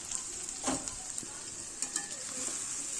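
Water lily stem curry with coriander leaves cooking in a pan, a soft continuous sizzle broken by several scraping stirs and light clinks of the spatula, no talking.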